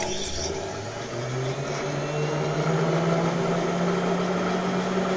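A washing machine motor powering a homemade rack-type wood splitter runs steadily, a close, continuous electric hum with a low mechanical drone and no talk.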